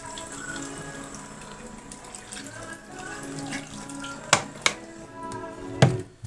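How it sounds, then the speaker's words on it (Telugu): Water poured into tamarind juice for a fish curry makes a steady running trickle, with a few sharper splashes and clinks near the end, close and with no talking. "చింతపండు రసం పోసుకున్న తర్వాత వాటర్ పోసుకోవాలి సరిపోదని"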